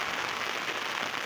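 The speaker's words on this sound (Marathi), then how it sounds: "आणि आता पाऊस आलेला आहे" Rain falls steadily on an open soybean field, a continuous broadband hiss with no breaks across the short stretch, fairly loud and even, with no voices present.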